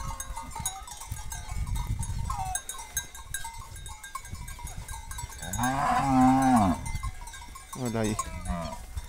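Cattle being herded into a corral during a cattle drive in the Brazilian sertão, with deep, drawn-out lowing calls rising in the second half over rustling and the shouts of herders.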